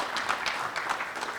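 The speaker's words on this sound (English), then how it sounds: "round of applause for everybody who's here" An audience at a panel discussion gives a short round of applause, a dense patter of many hands clapping at moderate distance, steady for just over a second.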